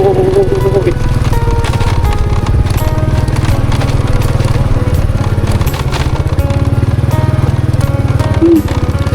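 Loud, steady drone of a vehicle engine held in fourth gear on a forest road, with a rapid regular rhythm running unbroken throughout.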